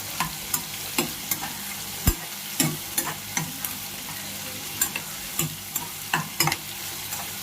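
Tomatoes frying with onions and dried shrimp in a pan for a gongura curry, with a continuous sizzle broken by regular sharp clinks and scrapes of a spoon stirring, close and moderately loud.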